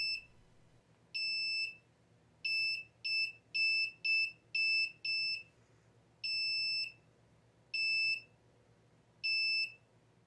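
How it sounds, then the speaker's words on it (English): Short electronic buzzer beeps from an Arduino laser tripwire alarm sound in an irregular series, some quick and clustered, others longer and spaced apart, over a faint low hum. "a simple and low-cost laser beam tripwire alarm"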